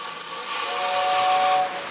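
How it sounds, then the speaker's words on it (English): A model train's steam whistle sounds as one sustained, fairly loud hissing tone lasting about a second, set against a steady background hiss. "Whistle."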